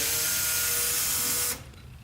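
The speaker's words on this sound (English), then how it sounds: "I'm just going to use my cordless attachment here" A cordless driver spins out a Torx T30 screw from a Can-Am Commander door mount, giving a steady high whine for about a second and a half before it cuts off abruptly, leaving faint background noise.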